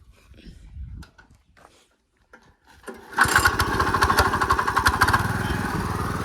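After some quiet rustling and faint talk, a farm sowing machine's engine starts abruptly and settles into a loud, steady chugging run close by.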